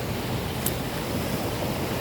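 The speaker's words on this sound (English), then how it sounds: "These waves are getting progressively more on shore." Surf rolling onto a Sanibel Island beach with the tide coming in, heard as a steady broadband wash of breaking waves mixed with wind rumble on the microphone, constant and fairly loud with no distinct individual breakers.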